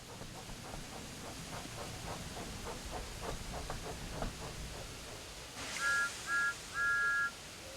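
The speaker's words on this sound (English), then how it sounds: "Thomas likes whistling cheekily at him." Steam engine whistle from the Thomas and Friends series, Island of Sodor: a soft rhythmic chuffing is followed by three bright, loud whistle toots in quick succession near the end.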